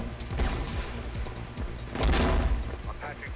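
Gunshots in the video game Mirror's Edge, several heavy muffled bangs and thuds in quick irregular succession, loud and close with a dense rumbling burst near the middle.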